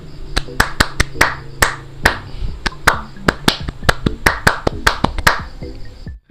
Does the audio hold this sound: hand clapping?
yes